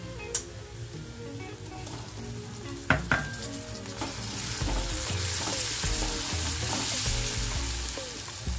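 Onions and tomato fry in a pan for tadka roti, a dense close sizzle that swells louder partway through, with occasional scrapes and clinks of stirring and no voices.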